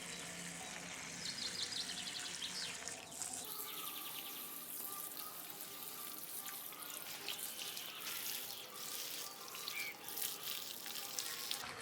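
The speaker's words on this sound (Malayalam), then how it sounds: "ഇനി ഇത് നമുക്ക് നന്നായിട്ടൊന്ന് നനച്ചു കൊടുക്കണം." Water pours steadily over a potted adenium plant in a continuous splashing hiss, with faint birdsong in the background.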